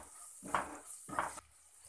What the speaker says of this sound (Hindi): इस मसाले को अच्छे से भून लेंगे जब तक कि घी इससे अलग नहीं हो जाए